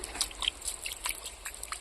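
Water sprinkled by hand onto seeds in a backyard garden gives soft, scattered trickles and light patters, quiet and close, with no talking.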